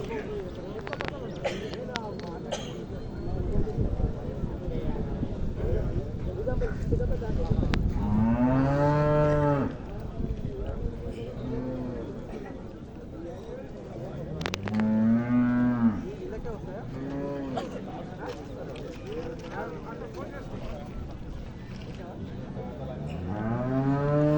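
A buffalo moos in several long, deep, loud calls close by, separated by stretches where people talk and a faint clip-clop of hooves sounds.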